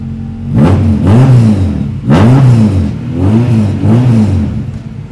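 Toyota GR Yaris hatchback engine revved hard several times in a row, each rev climbing and falling back, loud and close with a deep throaty rumble.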